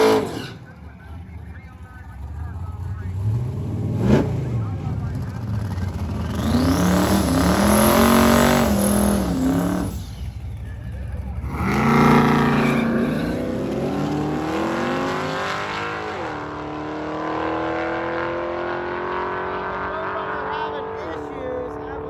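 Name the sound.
drag racing cars launching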